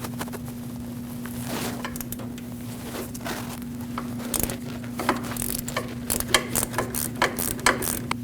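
A hand ratchet loosens the 14mm caliper bracket bolts on a Lexus IS250's rear brake, giving irregular metallic clicking bursts that grow busier and louder toward the end over a steady hum.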